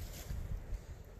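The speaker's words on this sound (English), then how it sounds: "Right now it's windy" Wind buffets the microphone in low, uneven gusts, producing a continuous rumbling roar outdoors by honey bee hives on a chilly day.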